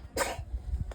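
A child sneezes once, a short, sharp burst close by, followed by quiet rustling indoors in a village home in Mukteshwar.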